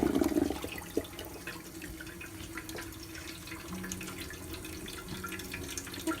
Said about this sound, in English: I'm going to let the water run in it for just a little bit.